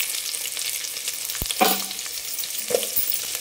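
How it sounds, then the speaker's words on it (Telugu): Onion, cashews, curry leaves and whole spices fry in hot oil and ghee, a steady close sizzle with a couple of brief spoon clinks against the pan. "ఇవన్నీ బాగా వేగించుకోవాలి కొంచెం కలర్ మారే వరకు."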